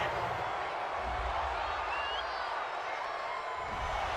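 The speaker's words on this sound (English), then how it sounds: "this crowd does not like that call" A stadium crowd at a gridiron football game reacts to a roughing the passer penalty with a broad, sustained roar and murmur, distant and steady, with faint whoops rising over it.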